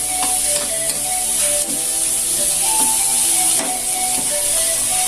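Tomatoes sauté for pakbet in a hot pan, giving a steady, loud sizzling hiss with faint clinks and stirring scrapes throughout.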